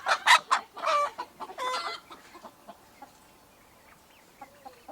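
Chicks being caught on a farm to go into the brooder: a few loud, close chirps and squawks at the start, then scattered fainter peeps trailing off into near quiet.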